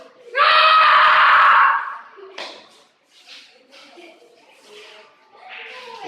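A loud, sustained high scream from a girl lasting over a second, followed by softer scattered sounds and quiet rustling, in a science museum.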